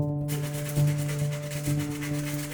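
Cardboard rubs around the edge of a canvas frame to clear away glue, a steady scraping friction with a couple of firmer strokes, close by over a constant electrical hum, and no talking.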